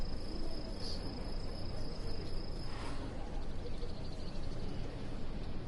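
A high, steady insect drone of gnats buzzing in the background at an outdoor golf course during a PGA Tour broadcast, a faint continuous whine over soft ambient noise.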